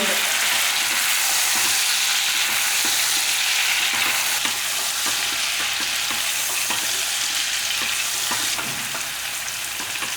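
Brinjal pieces added to onions frying in a pan give a loud, continuous close sizzle with faint crackles throughout, no one speaking.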